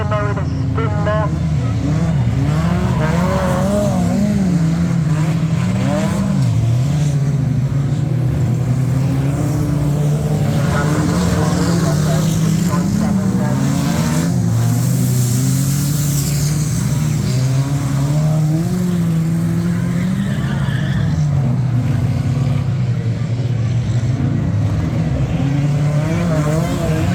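Race cars lapping a circuit during a race where two cars tangle and one spins out, their engines droning loud and steady throughout with rising and falling revs under a faint commentary voice.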